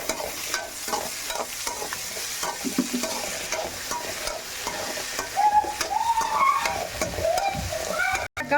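Radish and cut country plantain pieces, salted and washed, sauté in oil in a pan for a prawn curry, a continuous close sizzle with repeated stirring and scraping that grows louder toward the end.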